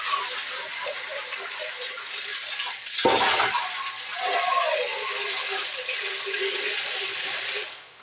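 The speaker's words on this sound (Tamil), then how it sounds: "நல்லா ஒரு 2-3 தடவை தண்ணி ஊற்றி நம்ம இந்த மீனை நல்லா கழுவி எடுத்துக்கணும்" Water poured over fish to wash it, a sudden gush around the three-second mark followed by steady running and splashing that continues until it stops near the end, over faint background noise.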